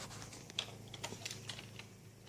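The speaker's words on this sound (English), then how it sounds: "It's really hard to type" Quiet, rapid typing on a computer keyboard, irregular clicks and taps clustered close together at low volume.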